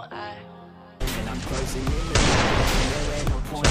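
Gunfire from headshots in the Free Fire video game, starting as a quiet musical lead-in and then bursting into loud, dense rapid shots and booms that keep going, with no voices.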